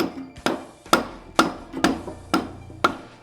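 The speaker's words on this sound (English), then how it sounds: "Then you can take a soft rubber mallet and hammer it into place." A soft rubber mallet knocks a drill press chuck onto its arbor in about six evenly spaced, dull thuds, each with a short decay, close and moderately loud with no talking.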